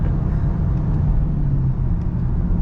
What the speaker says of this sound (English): I think if you floor it, it'll downshift.